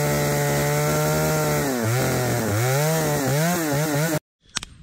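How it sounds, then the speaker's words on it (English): A chainsaw roars close by, its pitch dipping and rising repeatedly as it bites into apple wood, then cuts out abruptly, followed by a brief clatter. "my sawdust that I've just made with a chainsaw over here"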